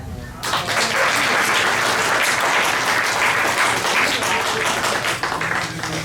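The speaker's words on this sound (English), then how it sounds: "Let's clap that up" Comedy festival crowd breaking into loud, sustained applause that starts abruptly and holds at full strength for several seconds, a thick wash of clapping with scattered voices inside it.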